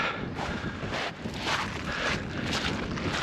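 Wind on a seaside beach on a sunny day buffets the microphone, a loud, steady rushing roar that swells and eases with the gusts.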